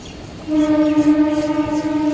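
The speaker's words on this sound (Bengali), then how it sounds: "ট্রেন চলে যাচ্ছে" A train horn sounds a long, steady, loud blast over the low rumble of rolling rail cars, with no voices.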